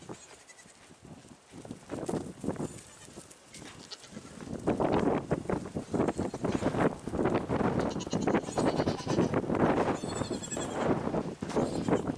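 Goats on a farm bleat repeatedly around a tractor or lawnmower, loud and close, with overlapping calls building in intensity through the second half.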